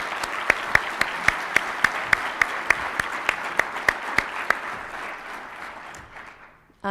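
An audience at an urban design conference plenary applauds steadily for several seconds, a dense wash of clapping with a few distinct near claps on a regular beat, fading before cutting off abruptly.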